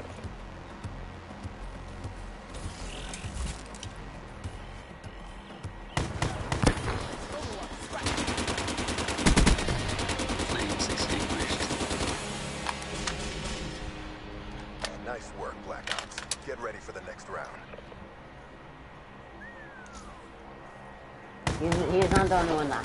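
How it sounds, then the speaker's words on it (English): Rapid bursts of automatic gunfire from a powerful weapon in a video game, starting and stopping in clusters with quieter gaps, while players talk over it. "that gun's really strong"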